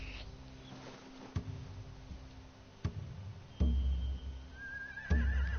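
A horse in the video game The Walking Dead: The Final Season whinnies with a rising, wavering call near the end, after a few sharp thuds and clatters over a quiet ambient background.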